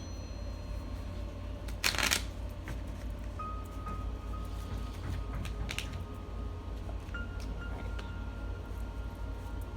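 A deck of tarot cards is shuffled in two quick riffling bursts a few seconds apart, close and fairly loud over a steady low room hum, with no talking.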